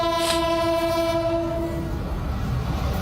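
An economy-class train's horn blares in a long steady tone, then fades into the rumble and rattle of moving rail cars.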